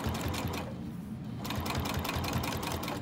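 A sewing machine back stitches across the card slot rows of a wristlet wallet, a close, loud, rapid rhythmic whir with a brief pause partway through before running on.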